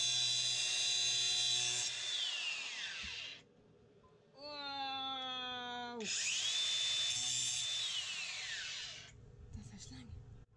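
A power tool cuts through bolts held in a vise, throwing sparks: two long, loud, high-pitched grinding bursts, separated by a rising whirring tone, with brief rattling at the end.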